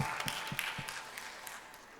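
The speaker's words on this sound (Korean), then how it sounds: "우리 하나님께 영광의 박수 드립니다" A church congregation claps together in praise, a faint, fairly quick run of sharp claps that thins out over about two seconds, heard from a distance.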